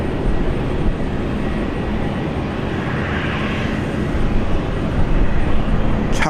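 A Boeing 737 airliner taxis at Brisbane airport, its engines producing a steady, moderately loud rumbling hum with a faint rising whine, heard from a distance with little variation.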